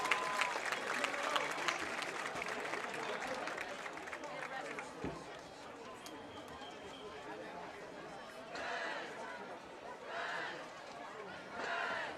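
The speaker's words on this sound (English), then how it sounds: "How about another warm Highland County applause for the Miami Chase Marching Panthers." A crowd at a Highland County high school football game applauds and cheers after a marching band's performance, a steady wash of clapping and chatter that thins out, then swells again in brief bursts.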